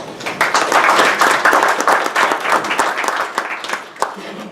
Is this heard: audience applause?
yes